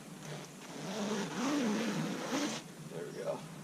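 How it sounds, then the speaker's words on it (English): A sleeping bag zipper being pulled on a Polish Light Fighter 1 sleeping bag, a close, raspy zipping run lasting a few seconds with a slight snag partway through. "it doesn't like to zip very well"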